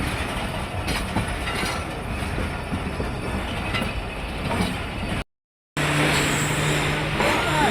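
The 47 Up Rehman Baba Express passenger train from Karachi Cantt to Multan Cantt rumbles loudly and continuously from on board, with rail clatter throughout, a brief dropout, then a steady hum resuming.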